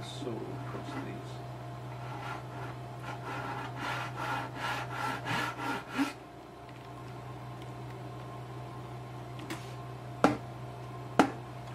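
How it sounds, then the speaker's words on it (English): A hand saw is worked across the fret slots of a tenor guitar fingerboard during a re-fret, giving a run of quick, even rasping strokes over a steady low hum, followed by a couple of sharp knocks. "So, I think I'll just have another little go of the saw across these."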